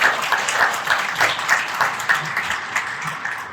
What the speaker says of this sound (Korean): 인간적인 의미에서 위로의 박수를 부탁드립니다.